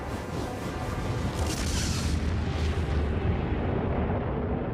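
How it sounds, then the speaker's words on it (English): An explosion sound effect stands in for two colliding neutron stars: a continuous, deep, roaring rumble with a crackling hiss that swells and sustains for several seconds. "When two neutron stars collide, you get a tremendous explosion, which we call a gamma ray burst."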